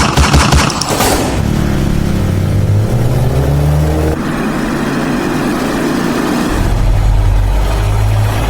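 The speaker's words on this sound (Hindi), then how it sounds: "और उसके बाद पीछे से बाइक आई और ताबड़तोड़ गोलियां।" A rapid burst of gunfire in an attack on a Scorpio SUV stopped on the road by another vehicle and then approached by bikers. The dense volley is followed by loud, sustained engine roar and revving.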